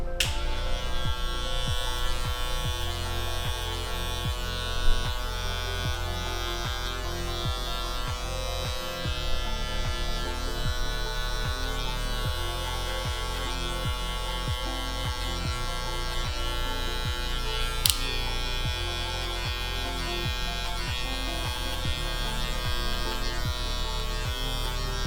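Electric hair clipper running with no guard and the blade open, cutting a high skin fade. A steady, close buzzing hum holds for the whole stretch with small irregular ticks as it moves through the hair.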